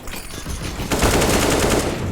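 Gunshots killing a player in Counter-Strike during a professional match, a few scattered shots followed by a loud, rapid automatic burst that runs to the end.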